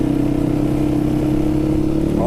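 A 2003 Yamaha WR450F dirt bike with an aftermarket baffled exhaust idles close by, a steady, even engine drone with no revving.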